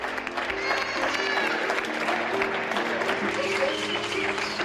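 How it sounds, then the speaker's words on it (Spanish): Applause from a crowd in Turkey greeting a show of support, with dense sustained clapping and some cheering, moderately loud, under a voice talking over it and faint music tones. "Los turcos recibieron esta muestra de apoyo con aplausos"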